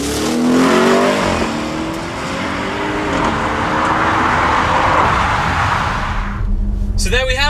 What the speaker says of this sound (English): the introduction and fitment to the Audi Sport Akrapovic titanium exhaust system